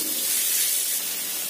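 A small splash of water poured into a pan of sautéing sliced carrots and ground spice paste for fried rice vermicelli sets off a steady, close hiss and sizzle that holds for the whole moment.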